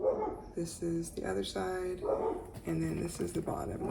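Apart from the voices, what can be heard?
dogs barking outside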